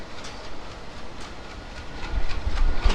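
Nakshikantha commuter train pulling out of Noapara railway station, a low rolling rumble with faint rhythmic clicks that grows louder toward the end and no voices.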